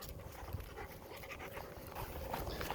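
A dog panting quickly and steadily, close by and fairly quiet, with faint outdoor background on a farm.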